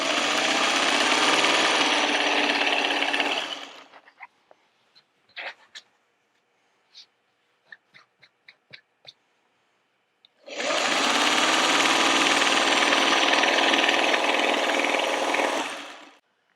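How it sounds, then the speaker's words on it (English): A sewing machine runs in two long, loud bursts while back stitching the seams of a reversible trick-or-treat bag, separated by a quiet stretch of scattered clicks and handling taps. "I will probably back stitch at the top and at the end of each of my seams"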